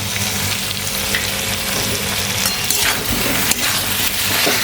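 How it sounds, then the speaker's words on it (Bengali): Biryani masala fries with raw jackfruit, paneer and turmeric in a pan, a loud steady sizzle with occasional stirring scrapes and soft thuds, and no voices. "এবার এটা ভালো করে কষিয়ে নেব।"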